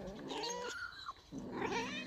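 A rescued stray cat meows in a drawn-out, wavering call lasting about two seconds, with a brief dip midway before the cry resumes, close and fairly quiet, no voices.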